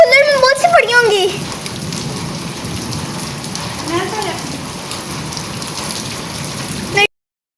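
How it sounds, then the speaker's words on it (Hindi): Heavy rain mixed with hail pouring down during the first summer storm, a dense steady patter on surfaces, while someone talks over it at the start and briefly again later. "यार बर्फबारी हो रही है।"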